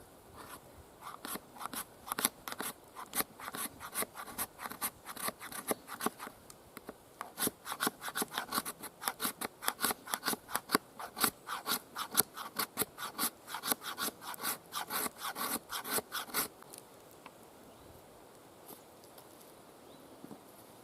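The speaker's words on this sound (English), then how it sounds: "Fat wood scraping." A knife blade scrapes fatwood outdoors, producing a long series of quick, rhythmic raspy strokes close to the microphone, irregular bursts for about sixteen seconds before fading to quiet.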